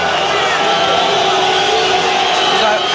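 A boxing arena crowd roars loudly and steadily as fighter Joey Gamache walks out, a dense wall of cheering with a voice faintly audible within it.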